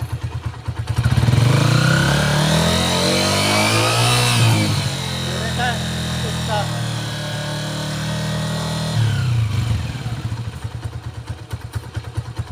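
A Honda 125 motorcycle engine runs close by and loud, its throttle blipped so the revs climb and fall in a smooth sweep before settling back to a steady idle.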